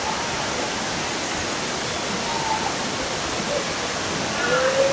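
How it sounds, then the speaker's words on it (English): Water running down a stone water course in an Italian villa's terraced water garden near Rome, a steady broadband rush that holds constant and fills the whole stretch, with faint tonal sounds drifting over it. "Coming down either side is a water course."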